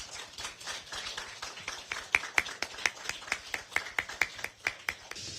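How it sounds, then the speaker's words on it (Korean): An audience at a political party campaign committee event claps, a thin sparse spread of hands building into a loose rhythmic patter of distinct claps, fairly quiet and somewhat distant. "큰 박수 부탁드립니다."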